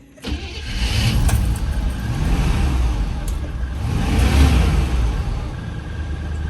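A campervan engine, stuck in a snowbank, cranks and catches, then runs roughly with rising revs swelling midway before settling into a steady idle, close and loud with no talk.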